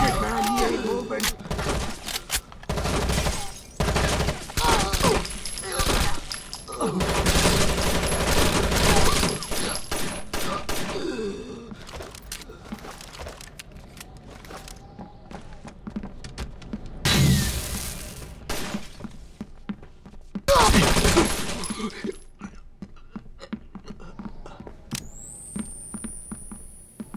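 Bursts of automatic gunfire in a Rainbow Six Vegas co-op firefight at a tower top, loud and repeated in clusters, with players shouting over the shooting.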